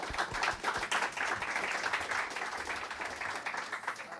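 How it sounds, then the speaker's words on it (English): Scattered audience applause at the JuliaCon 2024 conference session, moderately loud and sustained throughout with uneven individual claps, no one speaking over it. "let's give another round of applause to Xander."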